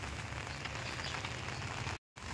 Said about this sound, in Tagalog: dire-diretso yung ulan.